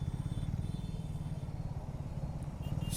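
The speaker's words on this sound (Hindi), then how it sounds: "एग्जॉस्ट के साउंड से आपको प्यार होने वाला है" Triumph Speed T4 350cc motorcycle idling with a steady, throbbing low exhaust rumble, close and continuous with even pulsing throughout.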